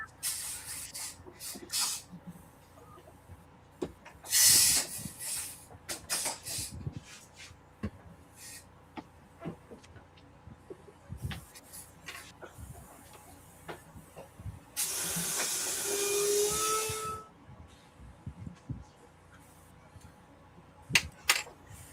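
An airbrush powered by an air compressor at 20 psi sprays paint in two short hissing bursts, one brief and one longer of about two seconds, with light tapping and handling noises in between.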